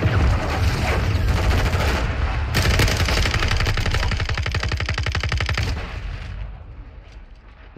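Sustained automatic gunfire in the Call of Duty Modern Warfare 2 beta, a loud rapid stream of shots with heavy booms underneath, rattling continuously before easing off near the end.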